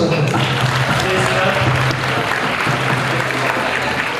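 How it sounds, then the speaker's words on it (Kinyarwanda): Audience applause at a wedding, a dense steady patter of many hands clapping throughout, fairly loud with crowd murmur and some voices mixed in. "turabasabye mukoma amashyi"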